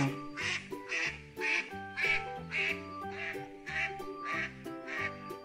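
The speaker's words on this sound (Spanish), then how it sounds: "Un pato." A toy farm-animal duck plays a recorded quacking sound, about ten evenly spaced, nasal quacks in a steady rhythm, clear and close.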